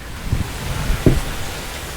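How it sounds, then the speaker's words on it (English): Steady drizzle falling outdoors after a roof rack refurbishment, a soft, even hiss of rain with a couple of faint low knocks, loud and close with no voices. "which I will do as soon as it stops raining"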